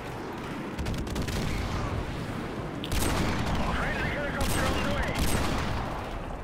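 Gunfire in the video game Call of Duty Modern Warfare Remastered rattles on steadily, with dense overlapping shots and a few louder bursts partway through, amid constant battle noise.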